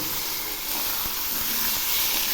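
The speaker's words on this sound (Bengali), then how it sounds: "এখন আমি এই মশলাগুলো খুব সুন্দর করে কষিয়ে নেব।" Ground mustard and poppy seed paste sautéing in a pan for a koi fish curry, giving a steady, close hiss and sizzle with faint scraping ticks throughout, no voices.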